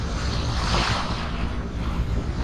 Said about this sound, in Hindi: ये जो अभी तेज भागा है ना क्रॉस उसकी वजह से है इतनी तेज वेव